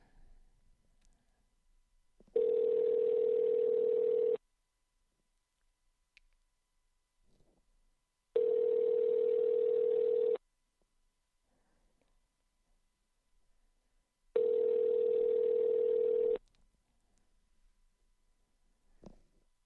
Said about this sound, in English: the call is going out